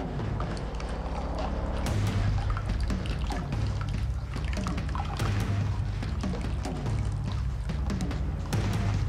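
Saturated potassium hydroxide solution poured into a container, with continuous trickling and splashing liquid, irregular drips and a few soft thuds, moderately loud and close with no talking.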